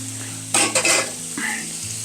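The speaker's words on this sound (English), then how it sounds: "I'm going to take these hatch chilies, onions, okay, that I made. I'm going to put them in there." Hatch chilies and onions dropped into a hot pan for pepper steak, setting off a loud, close burst of sizzling that settles into a steady fry with a faint utensil scrape and no talking.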